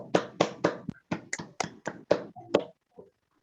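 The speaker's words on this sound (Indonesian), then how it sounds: "Tepuk tangan untuk kelompok" A small group of classmates claps for a presenting group in a classroom, about a dozen distinct sharp claps in an uneven rhythm that trail off and stop.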